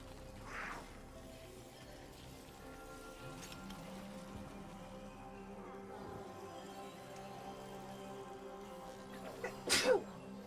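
A single sharp, loud human sneeze bursts out near the end over a quiet indoor background, with a fainter breathy sound earlier on.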